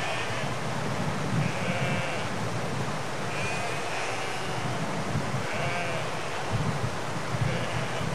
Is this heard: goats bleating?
yes